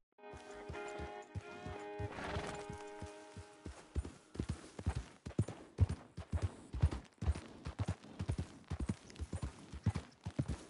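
Horse hooves in Red Dead Redemption II's Rockies setting, a steady rhythmic clip-clop of a walking horse, close and distinct, following a brief tonal musical passage, with no talk.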